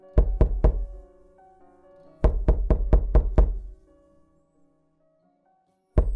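Knocking on a door comes in bursts: three quick raps, a pause, then a run of five or six firm raps, and a single knock returns after a stretch of quiet.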